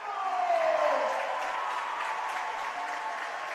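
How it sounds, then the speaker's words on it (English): Hometown crowd at a basketball game giving a sustained standing ovation for a coach, steady dense applause and cheering filling the space at an even level throughout. "a well-deserved ovation from the hometown crowd"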